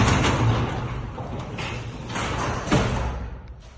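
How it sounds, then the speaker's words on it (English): A garage door being pulled down by hand, a steady rumbling slide with a couple of dull thumps as it travels, close and continuous for a few seconds. "So you can just bring your door down."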